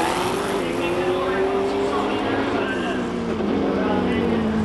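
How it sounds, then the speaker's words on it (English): Several race cars on a hillclimb course at the Simola Hillclimb roar and rev at high pitch, with overlapping engine whines rising and falling, loud and close, under a constant noisy background. "Lots of cars out there now."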